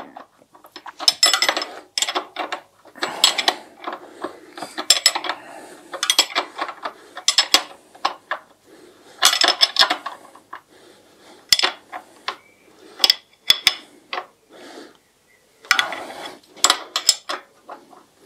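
Spanner work on the large nut of a stand mount on a BSA Goldstar motorcycle: close, repeated bursts of metallic clinking and ratcheting that come in irregular clusters with short pauses, and no one talks.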